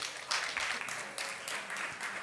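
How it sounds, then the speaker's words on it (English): A stadium crowd at a games championship claps in steady, dense applause, moderately distant, with faint voices mixed underneath. "Okay, everybody, big applause."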